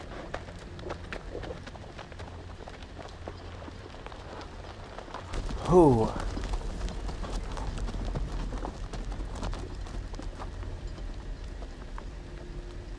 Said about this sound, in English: I swear I heard the horses stampeding.